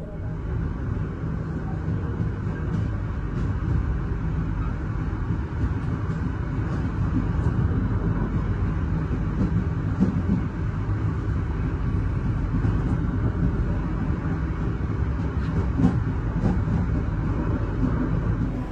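Gaya Baru Malam Selatan economy passenger train pulling into Kutoarjo station, a steady rumbling roar of wheels and carriage noise that stays loud and even throughout, with no clear voices.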